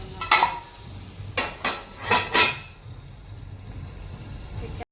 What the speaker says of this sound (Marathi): वरणला तडका पण झाला आपला.